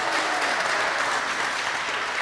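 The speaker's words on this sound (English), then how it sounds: "So give him a whole nother round of applause." An audience applauds a performer at a comedy show, dense even clapping holding steady throughout with no voices.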